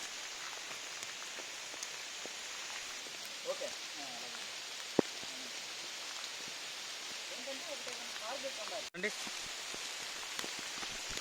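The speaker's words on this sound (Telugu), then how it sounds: "చూడండి వర్షం ఎలా పడుతుందో" Steady rain pours through dense forest along a steep, rocky trail in Lankamala Forest, a constant broadband hiss of drops on leaves with scattered sharper patters and one loud knock near the end.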